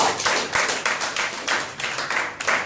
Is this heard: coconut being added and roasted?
no